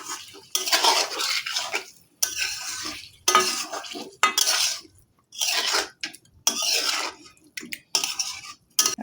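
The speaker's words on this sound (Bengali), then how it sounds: "এখন এটাকে ভালো করে মিশিয়ে নিচ্ছি।" Spiced chicken for coriander chicken being stirred in a pan, with repeated bursts of metal spoon scraping and clattering against the pan in an irregular rhythm, separated by short quiet gaps and a light sizzle underneath.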